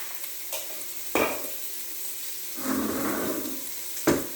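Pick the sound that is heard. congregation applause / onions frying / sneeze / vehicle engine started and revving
onions frying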